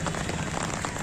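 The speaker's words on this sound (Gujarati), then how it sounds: "અત્યારે પણ વરસાદ ચાલુ છે મિત્રો" Steady rain falling over the Rajkot Lok Mela fairground in 2024, a dense continuous patter with no pauses and no talk.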